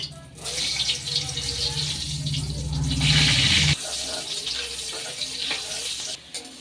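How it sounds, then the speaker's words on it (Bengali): Papaya pieces fry in hot oil in a pan, giving a loud, continuous close-up sizzle that swells and then drops abruptly partway through, with light stirring noises. "এখন কিন্তু এমনি তেলের মধ্যে ভেজে নিচ্ছি। দেবো পেঁপেগুলো।"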